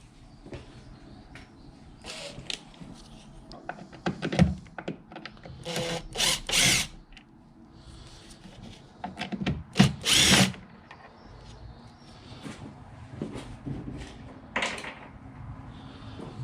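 A power drill backs out two screws on a Volkswagen Golf 4 while a coolant expansion bottle is being replaced, giving short whirring bursts with clicks and handling noises in between, close and fairly loud, with no talking.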